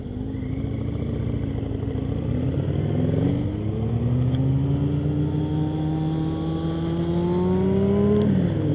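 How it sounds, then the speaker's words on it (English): A Kawasaki ZZR motorcycle cuts between cars in traffic, its engine a steady, loud drone with rising and falling pitch as it accelerates and eases off, heard continuously from close by with rushing road and wind noise. "Kawasaki ZZR North Carolina 4X 927, riding around with his child on the back of his motorcycle, cutting cars with no gear on"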